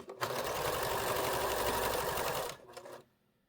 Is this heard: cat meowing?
no